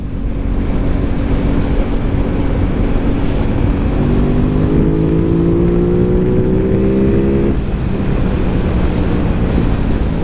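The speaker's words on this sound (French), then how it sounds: "Oh ça pète au passage de rapport." An Aprilia RS660 twin-cylinder motorcycle accelerates hard, its loud engine note climbing through the gears with pops on each shift, close and alone without talk.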